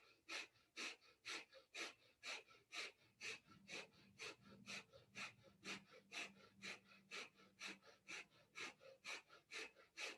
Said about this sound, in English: speed it up a little more, like you're panting like a dog through the nose.